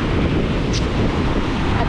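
Storm surge waves surge against a shoreline lined with houses while strong wind buffets the microphone, a steady loud roar throughout.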